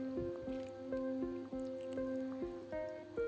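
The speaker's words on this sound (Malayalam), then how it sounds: "അരപ്പ് ഒഴിച്ചു കൊടുക്കാം" Ground coconut paste poured into simmering vellari moru curry with cooked cucumber pieces, a soft run of wet plops and squishy drips repeating roughly every half second, quiet and close, with no talk.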